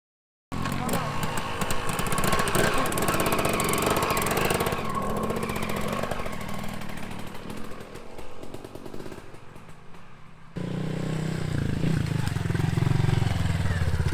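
A KTM 250 EXC two-stroke dirt bike engine revs hard and steadily, a loud buzzing roar close by that dips briefly before rising again with a heavier, deeper tone toward the end.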